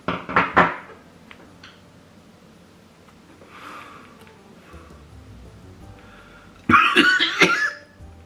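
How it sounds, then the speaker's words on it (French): A burst of harsh coughs up close, then quiet with faint rustling, followed by another loud cluster of coughs near the end. "je tousse comme un vieux"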